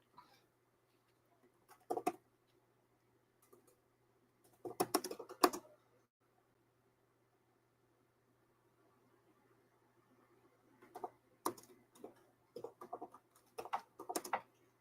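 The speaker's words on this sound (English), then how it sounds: "her keyboard is very different than my keyboard. I keep hitting the wrong buttons" Someone types on an unfamiliar computer keyboard. Quiet clusters of rapid key clicks come in short bursts, separated by long silent pauses.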